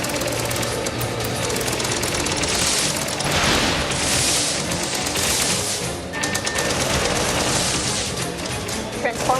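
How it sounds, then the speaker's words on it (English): Rapid automatic gunfire rattles continuously in the video game Project Nimbus, loud and dense with bursts of blasts and booms layered over it. "So I'm shooting at all of it."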